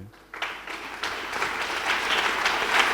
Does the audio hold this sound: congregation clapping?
yes